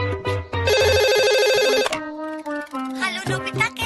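A cartoon telephone rings loudly in a bright electronic trill, with a long sustained burst followed by shorter repeated ringing phrases and a brief snippet of voice.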